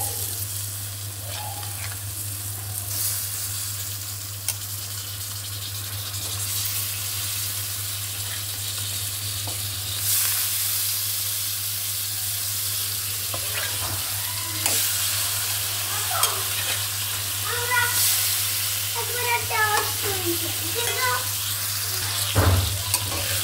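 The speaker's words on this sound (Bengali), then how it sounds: "এখন আমি মাছটা দিয়ে দিব।" Pabda fish sizzles and frying steadily in a hot pan while being stirred, a continuous close crackle with scrapes of a utensil and a faint low hum beneath.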